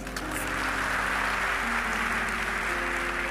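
Sustained audience clapping at a sermon in a large hall, a steady dense wash of applause with a low hum beneath, continuous and fairly loud throughout.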